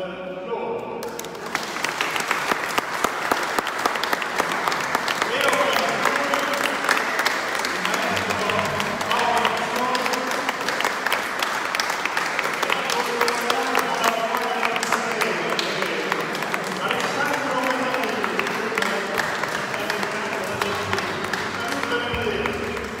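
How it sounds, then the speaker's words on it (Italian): An audience at an outdoor summer concert applauds a jazz organ trio, steady dense clapping from a sizable crowd that sustains throughout, with voices murmuring underneath. "facciamo un applauso per loro"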